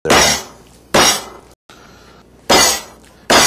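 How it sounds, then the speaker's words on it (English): A heavy pan pounds pepper-crusted venison steaks flat on a hard surface. There are four loud, sharp, close impacts, each followed by a short ringing decay, with brief pauses between blows. "We're going to pound these down."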